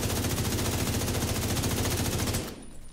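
Rapid automatic gunfire in The Division 2 PvP combat, a loud, dense burst of closely spaced shots lasting a couple of seconds before cutting off abruptly.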